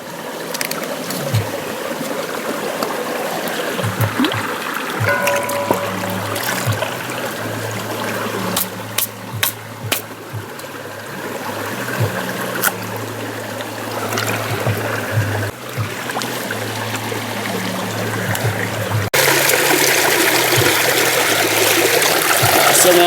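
Coconuts being rinsed under running water during outdoor bush cooking, with a steady trickling, splashing flow and occasional clunks and handling noises throughout, getting louder toward the end.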